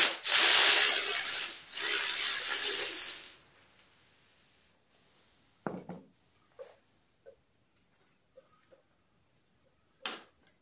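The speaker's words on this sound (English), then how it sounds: "Now we'll go ahead and take the brake hose loose and take the caliper to our workbench." A hand ratchet clicks rapidly in two close bursts while loosening the brake hose on a Yamaha SR500 motorcycle. Near-silence follows, broken only by a few faint taps and clinks.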